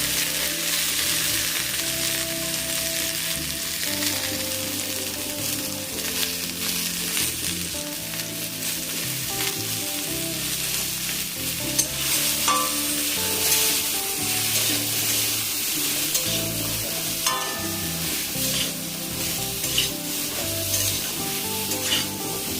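Pointed gourd (potol) fries in a pan with a dense, even sizzle and crackle that runs throughout, joined by occasional spatula scrapes and light clinks, near and steady with no voices.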